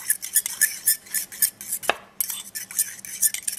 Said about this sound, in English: I add my olive oil, almost the same amount of lemon, and I mix them very well